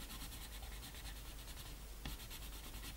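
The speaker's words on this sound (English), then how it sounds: "And then you can just crayon in over the top." Coloured pencil scratching steadily across paper as an explosives warning sign is coloured in, a soft continuous close-up rasp with a brief stroke change partway, no voices.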